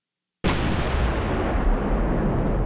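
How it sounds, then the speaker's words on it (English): A cannon fires a salute in a mountain valley: silence, then one sudden deep artillery blast that roars on as a long, loud, rumbling reverberation without decaying much, with no voices. "The explosion bellowed deeply throughout the mountain valley, the reverberation of not one cannon"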